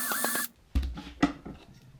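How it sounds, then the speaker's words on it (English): A power drill bores a hole through a wooden beehive box, in a loud whirring burst followed by short scraping bites as the bit works through the wood, close by. "So we're gonna drill on this side over here of my finger."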